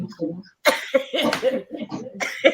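Several rough, hacking coughs in quick bursts, close by, mixed with throaty vocal sounds and some speech.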